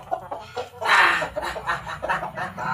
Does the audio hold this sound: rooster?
yes